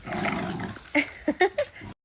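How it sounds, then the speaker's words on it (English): Dogs play indoors in the background while a bed frame is assembled, giving a few short, sharp growly barks and yelps after a low rumbling stretch, moderately close and without talk. "The dogs in the background are just playing."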